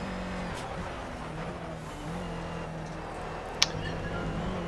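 A Renault Clio Cup race car held at full throttle in the Project CARS racing game at Oulton Park. A steady, droning engine note continues throughout with one brief sharp click near the end.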